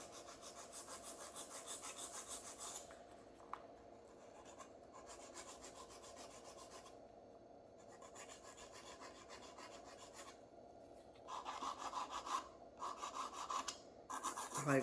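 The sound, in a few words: filing acrylic nails on a mannequin practice hand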